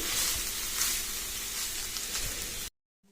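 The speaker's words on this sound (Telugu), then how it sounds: "ఎక్కడ అడుగంటకుండా మంట మీడియం ఫ్లేమ్లో పెట్టుకొని కలుపుతూనే ఉండాలి" Grated fresh coconut is roasted over a medium flame and stirred constantly in a pan for coconut laddu. A dense, even sizzle with faint scraping runs throughout, then cuts off abruptly near the end.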